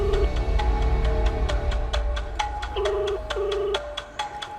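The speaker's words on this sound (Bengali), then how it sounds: "রিং হচ্ছে" Repeated ringback tones pulse from a phone as an outgoing call connects in a crime drama, with short evenly spaced beeps over a faint musical background.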